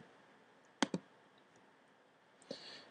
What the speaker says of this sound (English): Go to the assessment menu, click on the quizzes tab.